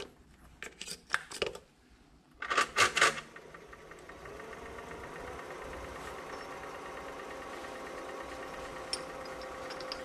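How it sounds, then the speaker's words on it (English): A manual bench lathe's transmission gear disengages with a few sharp metallic clunks and clatters, followed by a steady mechanical hum of the machine running on at moderate volume. "Transmission gear disengaging."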